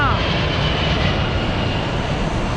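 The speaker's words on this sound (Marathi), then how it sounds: "आता हे निघलं विमान. हे पहा किती जोरात येऊ राहिलं." An Indian Army airplane flies low overhead at Leh in Ladakh, its engine giving a loud, steady, broadband roar that fills the whole moment close by.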